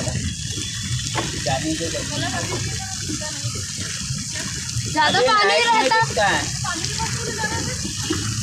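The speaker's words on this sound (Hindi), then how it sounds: "ये देखो पीछे से जाते हैं ना तो पानी गिरता ज़्यादा" Water pours and splashes steadily from a fountain at a Balaji temple, with a brief louder gush partway through, heard under people talking close by.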